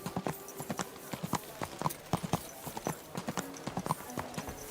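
Hooves clip-clop in a quick, steady rhythm, a horse trotting in the video game Kingdom Come: Deliverance II, crisp and fairly close with little else around.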